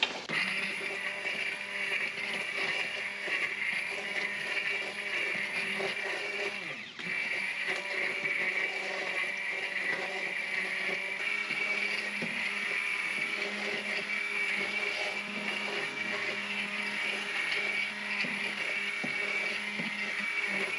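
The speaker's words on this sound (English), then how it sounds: "I'm going to use my immersion blender over here with the onions and the broccoli" An immersion blender whirs steadily and loudly for about twenty seconds as it purées onions and broccoli into a keto cheddar and broccoli soup, the motor droning continuously with a brief dip partway through and no talking.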